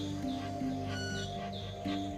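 A small manakin songbird in the dense forests of Ecuador gives a few thin, repeated chirping calls over a steady, low background hum.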